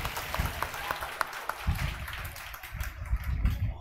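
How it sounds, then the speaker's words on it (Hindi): An audience in a large classroom bursts into loud applause, a dense spread of claps that swells and fades with a few sharper hand strikes mixed in. "जोर से ताली।"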